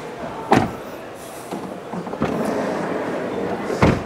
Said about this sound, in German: Ich mache mal hier kurz die Tür zu.